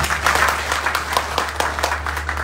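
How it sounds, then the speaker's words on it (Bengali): Audience at a district representatives' conference in Gazipur breaking into loud applause, a dense burst of clapping from a crowd that continues steadily with sharper individual claps near the middle, heard without speech. "তাদের জন্য একটা জোরে হাততালি।"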